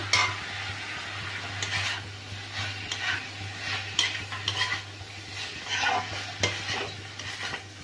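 Chilli chapati being stirred and sautéed in a pan, with repeated spatula scrapes and clinks over a soft continuous sizzle, close and moderately loud.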